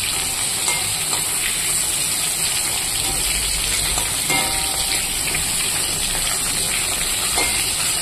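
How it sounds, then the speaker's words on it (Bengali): Pointed gourd (potol) frying in a pan as it is stirred, a steady close sizzle and hiss running throughout with occasional scraping from the stirring, no voices. "তো পটলটা দিয়ে দিয়েছি, এবার ভালো করে নাড়াচাড়া করে একটু ভেজে দেবো"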